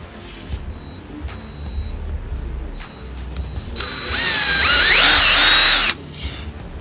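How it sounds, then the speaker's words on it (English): A power tool buzzes as it bores holes in leather strips during a Land Rover Defender interior restoration, with a quiet workshop at first and then a loud, whining burst of about two seconds. "So we're making these holes in the strips of leather."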